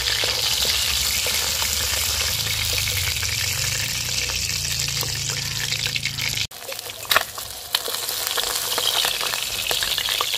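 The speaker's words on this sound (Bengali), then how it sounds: "বাদ বাকি মাছগুলো আমি আবার ভেজে নেব।" Pieces of bhola fish fry in hot oil with a steady, loud sizzle that runs the whole time, and a brief dip and a few clatters from stirring partway through.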